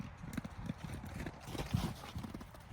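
Horses trotting in on a farm, a steady clip-clop of hooves from several animals at moderate distance, continuous throughout with no talk.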